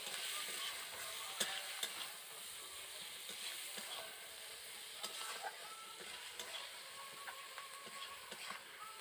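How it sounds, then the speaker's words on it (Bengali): Spice paste for a village-style pumpkin greens dish fries in a pan with salt, giving a faint, steady sizzle broken by soft stirring clicks and scrapes. "প্রথমে ভালো করে মশলাটা আমি কষিয়ে নিচ্ছি"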